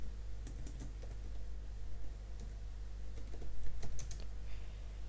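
Text is typed on a computer keyboard in irregular runs of light, close key clicks over a steady low hum, with one brisker flurry near the end. No one speaks.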